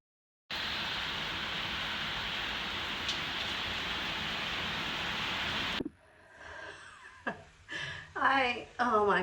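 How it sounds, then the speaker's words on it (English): Heavy rain pours down in a dense, steady roar that covers most of the moment, then stops abruptly, leaving a quieter space where a voice speaks. "It is pouring rain and I am saturated, dripping wet."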